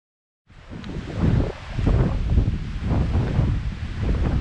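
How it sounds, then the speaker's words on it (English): Strong wind buffets the microphone in a loud, continuous roar that rises and falls in gusts, with no voices, on a lake island in the Canadian boreal forest. "It's windy. It is really windy."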